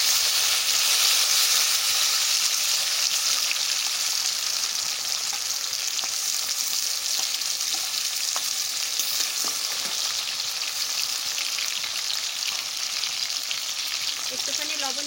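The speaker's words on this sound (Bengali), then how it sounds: "টমেটো আর পেঁয়াজ দিয়ে দিচ্ছি" Tomato and onion frying in hot oil with cumin seeds, a steady dense sizzle running throughout with occasional stirring scrapes, close and continuous with no talking.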